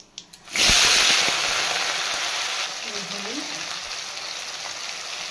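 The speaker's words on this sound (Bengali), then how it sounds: "এই আলুটাকে ভালো করে এখন ভেজে নেব।" Potatoes with a bay leaf drop into hot oil in a pan and sizzle loudly at once, settling into a steady, slightly softer frying hiss, with a brief clink of utensils partway through.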